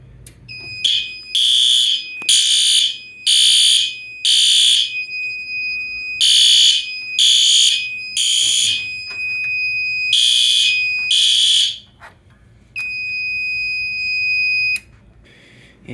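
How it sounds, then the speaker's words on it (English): A smoke alarm sounds during a weekly test, giving loud, piercing electronic beeps in rhythmic bursts of three or four, then a longer continuous tone after a brief pause. "this test of the weekly smoke alarm testing"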